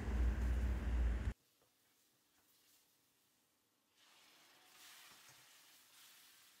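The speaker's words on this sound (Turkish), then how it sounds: "azar azar döküp hızlı bir şekilde karıştırarak kavurma işlemine devam edelim" Sugar syrup poured into a hot roasting mixture while it is stirred: a loud, dense sizzle burst that cuts off abruptly, then a faint low hiss that swells slightly again.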